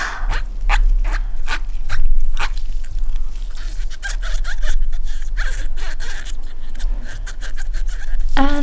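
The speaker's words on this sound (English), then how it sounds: "let me know if you liked the teeth squeaking" Continuous close squeaky rubbing and scraping, loud and steady, with repeated gritty strokes throughout and no talking.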